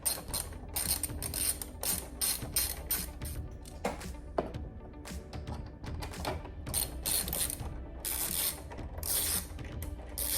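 Torx T30 and T20 bolts being unscrewed from the A-pillar of a 2021+ Ford Bronco, giving a steady run of close ratcheting clicks and small metallic taps with no talking.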